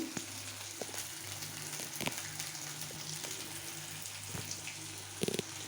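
Curry leaves sizzle and crackle steadily in hot oil while cabbage poriyal cooks in wedding-feast style, with a few sharper pops standing out near the end.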